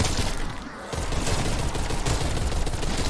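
Continuous loud automatic fire in Call of Duty: Black Ops Cold War zombies mode on the Firebase Z map, a short dip near the start then unbroken rapid shooting to the end, no talk.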